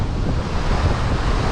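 Ocean waves surging and splashing over a wet rock jetty while jetty fishing, a steady loud roar of surf with wind buffeting the microphone, no talk.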